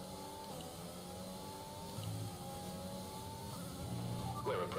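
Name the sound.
F1 2020 race car accelerating, from a video game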